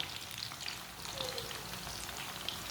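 Chicken seekh kababs fry in a pan over a medium flame, giving a soft, even sizzle and crackle that goes on quietly with no voices.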